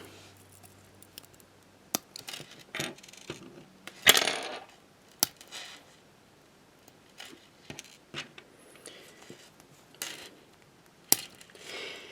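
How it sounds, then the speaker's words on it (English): Plastic parts of a B-daman Cobalt Saber Fire model kit being trimmed, producing sharp, separate snips and clicks at irregular intervals against a quiet background, close up, with no talking. "we're just going to trim the plastic here"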